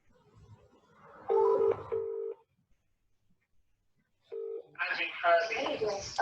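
Touch-tone keypad beeps dial out for a phone call: three clear steady tones in close succession with a longer pause before the last, followed by faint rustle and then a voice answering.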